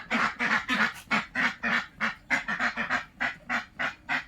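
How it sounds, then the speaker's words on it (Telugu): White and black guinea fowl call in a rapid, rhythmic series of harsh, repeated squawks, loud and close, with no talking. "తెల్ల గిన్నె కోళ్ళు ఉన్నాయి, నల్ల గిన్నె కోళ్ళు ఉన్నాయి"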